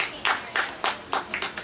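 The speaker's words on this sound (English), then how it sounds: "round of applause, please." An audience at a class reunion opening speech claps in a short, scattered burst of sharp hand claps, a handful of people rather than a full crowd.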